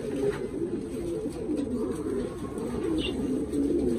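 Domestic pigeons cooing steadily in a loft as a mated pair is introduced, the low rolling coos close and continuous with faint chirps over a constant background hum.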